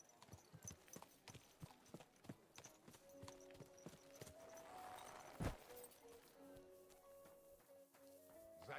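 Horse hooves clip-clop steadily on a hard surface in the medieval video game Kingdom Come: Deliverance, fairly faint, with a quiet musical drone and a soft thump partway through.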